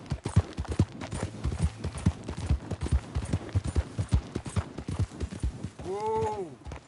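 In Red Dead Redemption 2, a galloping horse pounds out fast, steady clip-clop hoofbeats close up for several seconds, then a short voiced call rises and falls near the end.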